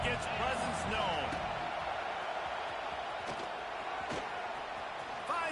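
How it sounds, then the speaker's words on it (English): In the College Football 26 video game, a Mississippi State at Texas stadium crowd roars as a dense, steady wash of cheering, with commentary speech over it and a few faint thuds. "This crowd ready to make its presence known."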